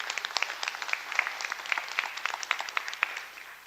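Audience applause at an MCN National Council meeting honoring named members: a dense, steady burst of many hands clapping that carries on for several seconds without a break.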